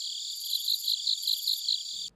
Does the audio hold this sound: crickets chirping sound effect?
yes